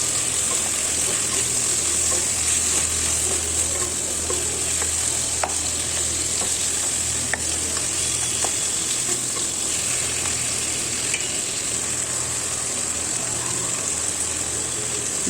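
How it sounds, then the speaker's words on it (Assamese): Chopped tomatoes sizzle and fry steadily in a pan for a chicken stew, with a continuous hiss and occasional faint scrapes of stirring, close and even throughout. "কাটি থোৱা বিলাহীখিনি দিলোঁ"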